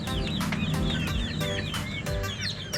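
A bantam (kate) hen and her chicks make close, steady clucking and peeping with repeated short calls, heard alone without talk.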